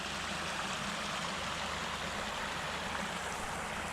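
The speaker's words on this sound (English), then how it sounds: "Just sit here and listen to the creek." Winter creek in Vermont woods with ice forming along its edges, a steady, soft rushing of running water with no breaks, faint and even throughout.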